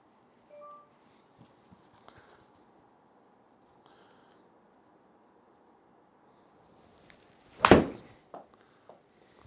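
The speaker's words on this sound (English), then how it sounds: "All right, so let's take some shots with that 7-iron now." A single golf shot with a 7-iron struck off a hitting mat: a sharp, loud thwack partway through with a brief rattle after it, set against a faint hum and quiet, scattered knocks.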